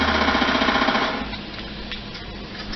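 Automatic pistol fired rapidly in the video game Call of Duty: Black Ops 2, a dense buzzing stream of shots held on the trigger, loud at first and then tapering into a rougher rattle.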